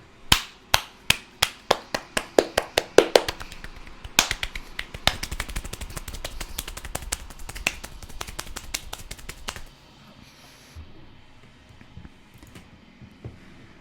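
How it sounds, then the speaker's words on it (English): Sharp claps in the Slay the Princess video game start slow and speed up like an engine revving, turning into a dense rapid burst that cuts off abruptly and leaves a faint hiss. "I hear claps revving up like an engine."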